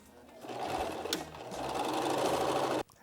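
A sewing machine stitches bias binding in a continuous close, loud mechanical whirr that builds after a brief pause and stops abruptly near the end.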